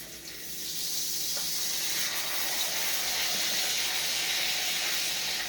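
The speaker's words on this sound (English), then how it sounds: "that's the sizzle of the steak" Steak sizzling in a pan for keto dinner prep, a steady broad hiss that swells in the first second and then holds constant and close.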